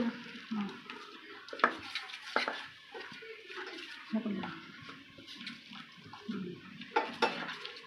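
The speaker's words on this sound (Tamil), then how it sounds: "இப்போ கொஞ்சம் கொஞ்சமாக தண்ணி ஊற்றி கிளறிக்கலாம்" Water trickles and splashes in short bursts into millet flour, with scraping and stirring against a bowl, close by, with faint talk underneath.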